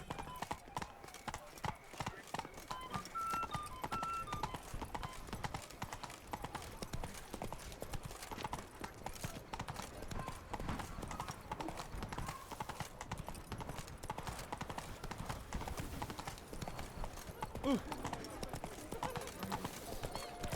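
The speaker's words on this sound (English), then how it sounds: "Run, Roach." Roach, a horse in The Witcher 3: Wild Hunt (Blood and Wine), gallops with a fast, continuous drum of hoofbeats that runs steadily throughout at moderate level.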